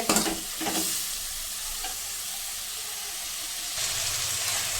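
Tomatoes, carrot and masala fry in a pan for paneer bhurji, a loud steady sizzle close up with stirring scrapes near the start and a renewed surge of sizzling toward the end.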